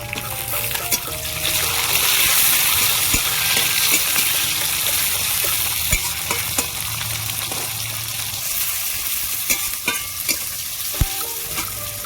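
Onions fried until reddish brown, with chopped tomato, sizzle steadily in oil in a pan for amudi fish jhal, and a spoon scrapes and stirs through them at intervals with clear clinks.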